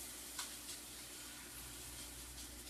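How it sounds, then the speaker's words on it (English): Pancake batter sizzles in a hot pan with little wells, a faint, steady frying hiss with a few small pops, quiet and continuous. "Oh yeah, there's a sizzle."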